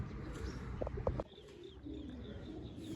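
Pigeons in a loft of about forty-eight birds cooing, a few short throaty coos clustered around the first second, then quieter chirps over constant background noise.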